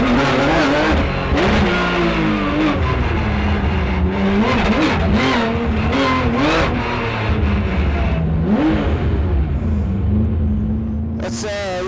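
A race car engine revs hard and drops repeatedly as it accelerates, brakes and shifts through corners on the 2010 Race of Champions track in Düsseldorf, loud and close throughout.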